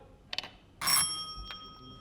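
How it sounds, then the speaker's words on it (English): A bell rings at a ceremony, first a couple of quick taps then a clear sustained ring that fades, followed by a faint extra strike. "You are ringing the bell."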